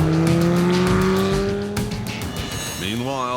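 Sports car engines roar and rev on the San Bernardino Pass, a Swiss mountain road, with sustained loud engine drone, a rising then falling pitch sweep near the end, and faint voices underneath.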